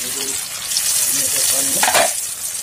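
Potatoes and tomatoes frying in a pan for a fish recipe, a steady close sizzle with stirring scrapes and a brief louder burst near the end, no talk.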